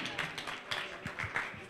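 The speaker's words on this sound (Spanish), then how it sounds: "Un fuerte aplauso para Isidora Urrejola" A small studio audience at Hotel W claps for guest Isidora Urrejola, light, scattered hand claps and taps at moderate distance, with faint voices underneath.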